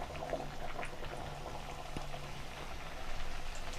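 Thattai rice-cracker dough sizzles in hot oil, giving a steady crackling, bubbling hiss with scattered pops at moderate volume and no talk.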